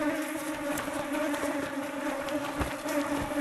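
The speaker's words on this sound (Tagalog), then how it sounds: "ang dami na pong bubuyog oh" A dense swarm of honey bees from a hive under a rock, buzzing steadily and loudly up close, a continuous droning hum with no talk over it.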